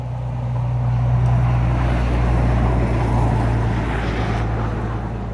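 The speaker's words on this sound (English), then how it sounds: "loud ass trucks, man." Loud trucks roll past close by, a heavy continuous rumble that swells and slowly eases over several seconds, with no voices.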